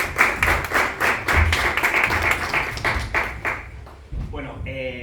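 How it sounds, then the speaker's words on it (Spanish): An audience applauds with dense, loud clapping for several seconds, then fades as a voice begins speaking near the end. "un aplauso para Nieves"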